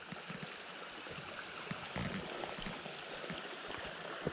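Small creek in the Sipsey Wilderness flowing steadily nearby, a continuous broadband rush and gurgle of water with a few brief knocks, no talking.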